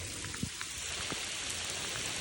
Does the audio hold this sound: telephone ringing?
no